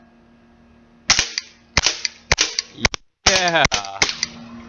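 Shots from a Beretta 90two airgun fired quickly at outdoor can targets: a string of about six sharp, loud pops in close succession with a short gap before the last ones, with no talk over them.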